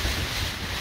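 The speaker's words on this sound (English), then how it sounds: "It's windy." Steady, rough early-morning wind with rain on Dartmoor buffeting the microphone, a continuous roar with no breaks.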